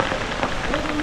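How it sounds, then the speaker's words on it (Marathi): Steady monsoon rain patters on a surface at Raigad fort during the coronation ceremony, a dense even hiss filling the whole moment with no pauses. "पाऊस आलाय"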